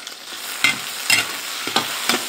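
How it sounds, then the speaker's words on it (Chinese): Bean paste and small chillies are stir-fried in a hot wok, a constant sizzle broken by five distinct scraping strokes of the spatula at a steady pace, close and clear with no speech. "把豆瓣酱和小辣椒的红油炒出来，炒香。"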